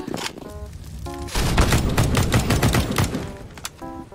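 Rapid automatic gunfire in Counter-Strike: Global Offensive, a loud, dense fusillade of overlapping shots lasting several seconds, with short electronic game tones at the start and end.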